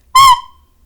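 A single shrill, piercing recorder squeak from overblowing, short and loud, ringing briefly before fading out.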